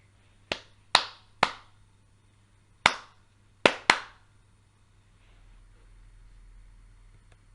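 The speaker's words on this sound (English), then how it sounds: "Try clapping out different rhythms with your child and ask them to clap them back to you." Hand claps beating out a simple rhythm, six sharp close claps in uneven groups with gaps between them, followed by quiet room noise and a faint low rumble.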